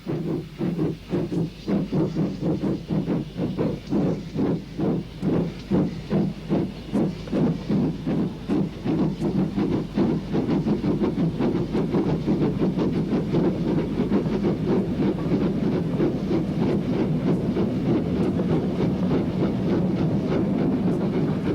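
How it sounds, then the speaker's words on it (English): A Dukedog steam locomotive hauling empty stock toward Barmouth chuffs rhythmically in quick, regular beats that blend into a steady rumbling roar with hissing, heard up close and loud from the footplate. "Pat joined the footplate crew on the second Dukedog as they took the empty stock forward to Barmouth"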